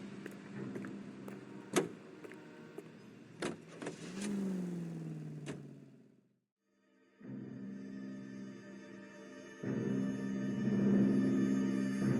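A car in the 1940s Los Angeles game L.A. Noire starts off with door and mechanical clunks, then an engine hums and revs steadily, dropping briefly to near silence before the drone returns louder, with no voices.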